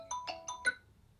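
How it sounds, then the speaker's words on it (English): A Xiaomi 12X phone rings for an incoming call with four quick, bright chiming tones in a rising pattern, close and clear, then fading into quiet. "Oh, phone call on the Xiaomi 12X."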